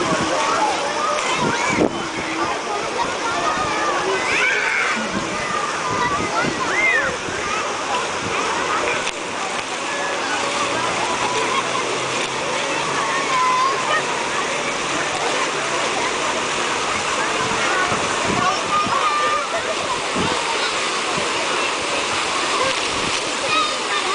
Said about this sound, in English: They have these buckets that rotate, and as they fill with water, they tip the water out.